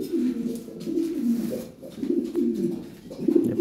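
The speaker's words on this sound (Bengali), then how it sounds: "এটা অরিজিনাল ব্লাড লাইনের কবুতর" Purebred pigeons coo in low, throaty repeated phrases, close and fairly loud with short pauses between calls.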